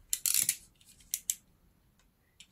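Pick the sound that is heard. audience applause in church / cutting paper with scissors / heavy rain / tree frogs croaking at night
cutting paper with scissors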